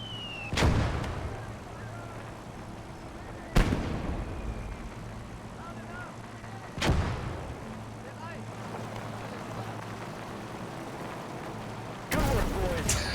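Mortar rounds fire in the World War II strategy game Gates of Hell, four sharp, booming thumps spaced a few seconds apart over a low rumble of battle ambience.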